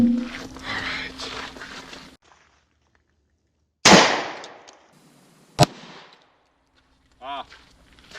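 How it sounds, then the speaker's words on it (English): Two sharp, loud cracks from a Tokarev pistol fired at a Polish Wz2000 Kevlar helmet, the first with a long ringing decay and the second shorter, after a stretch of talking and a quiet pause. "gonna shoot it one more time with the Tokarev just to be absolutely certain"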